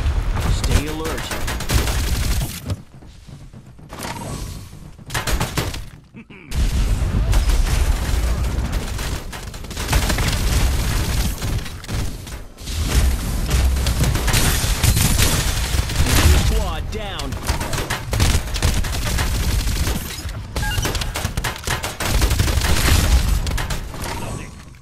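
Gunfire in the shooter video game Farlight 84, likely from the Jupiter-6 weapon, rips in loud, sustained automatic bursts with booms and brief gaps, while in-game character voice callouts sound over the shooting.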